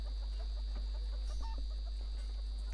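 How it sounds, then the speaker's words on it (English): Soft, scattered clucking of a chicken sounds through a faint steady hum, with brief, irregular clucks spread across a short quiet stretch and no talking. "The awakened Doom Chicken. And the clucking, I finished my spell."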